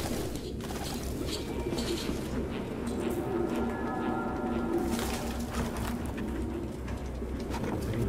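Pigeons coo in Detroit: Become Human against a continuous ambient bed, with soft repeated cooing and chirps running through the whole stretch.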